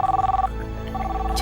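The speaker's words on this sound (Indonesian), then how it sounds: "Ada telepon." A telephone bell rings loudly in a short burst, rapid trilling pulses that stop, then a steady tone resumes over a low hum.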